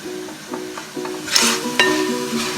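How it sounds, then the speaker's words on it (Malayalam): Spice powders of garam masala, pepper and chilli frying with onions and garlic in a pan, a short burst of sizzling with a few scrapes and knocks of stirring, close and alone. "അപ്പൊ ഉള്ളിയും വെളുത്തുള്ളിയൊക്കെ കൂടി മൊരിഞ്ഞു വന്നിട്ടുണ്ട്"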